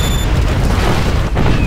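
Fireball explosions in the video game Generals Zero Hour, a dense, loud, continuous rumbling boom.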